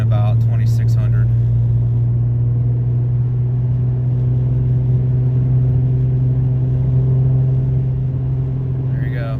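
A Ford Mustang with a 3.7 V6 engine and 3.73 gears drones steadily at highway speed, a strong low engine hum that holds constant, with brief voice bursts at the start and end.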